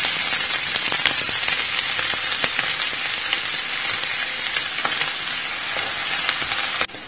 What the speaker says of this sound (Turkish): Bunun üzerine kuru soğanı ekleyip biraz soteleyelim.